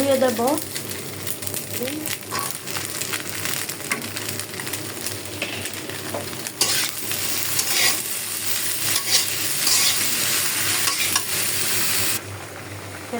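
A spoon stirring egg and other ingredients frying in a pan, with steady sizzling and scraping and occasional clinks against the metal, while someone talks at times.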